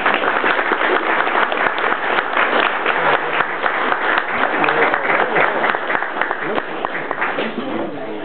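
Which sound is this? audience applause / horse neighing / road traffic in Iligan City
audience applause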